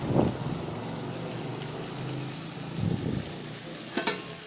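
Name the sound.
spices frying in a pan with a little water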